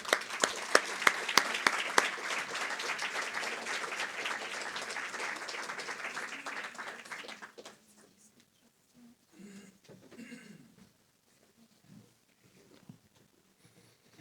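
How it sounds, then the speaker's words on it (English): Lecture audience clapping for a speaker at a talk, a dense, steady round of applause that lasts several seconds, then stops abruptly, leaving quiet room noise and faint shuffling. "I would like to hand over with a big round of applause to Hazem Jamjoum"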